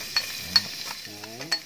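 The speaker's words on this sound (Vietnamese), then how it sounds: "Hành tỏi băm là phi." Minced shallots and garlic frying in a little cooking oil in a pan, a soft quiet sizzle with occasional stirring scrapes, while a person talks briefly in the background.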